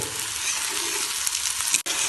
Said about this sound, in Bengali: দেখুন পেঁয়াজগুলো কিন্তু লাল করে ভাজা হয়ে গেছে